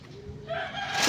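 A chicken gives a short, close, rising call that ends in a brief cluck, over a low background murmur.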